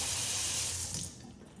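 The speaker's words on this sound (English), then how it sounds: "you don't have to touch the faucet and get it all dirty. You just tap it and it'll turn on and off" Water pours from a touch-activated kitchen faucet into a sink as a soft, steady hiss that stops partway through, leaving a quieter low trickle.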